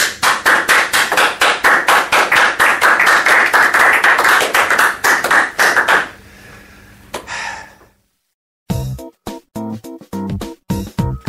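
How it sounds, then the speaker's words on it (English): A group in a training course bursts into loud, dense applause for about six seconds, then it thins out and stops, followed by a short silence and a few louder, scattered thumps and claps. "Why don't you all give yourselves a nice big round of applause?"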